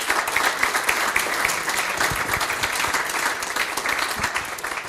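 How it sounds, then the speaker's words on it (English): A room full of people at a business networking drink applauds steadily, a dense, loud wash of clapping that holds evenly throughout. "So I would like to really ask for an applause also for Alro on that."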